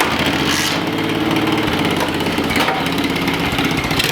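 A small, high-pitched pit bike engine with a new spark plug runs loud and close, buzzing steadily with slight rises in revs and no pauses.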